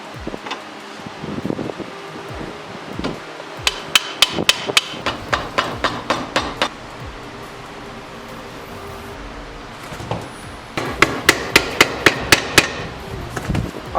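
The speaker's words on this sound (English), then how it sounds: "now that the radiators are all clean, I can get to straightening them" Metal hammer striking the bent radiator mounts of a YZ125 motorcycle radiator in bursts of sharp, ringing blows, first scattered then in quick runs, close and loud against a low background hum.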